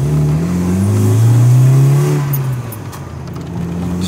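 An engine-swapped car engine revs up loudly nearby, rising and falling in pitch, with an exhaust pop, then settles back toward idle.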